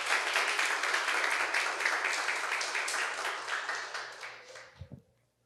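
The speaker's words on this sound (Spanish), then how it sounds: "un aplauso para la paciente" Audience applause for a patient at a mental-health talk, a full burst of many people clapping that gradually thins and fades out, ending with a couple of low thumps and then silence.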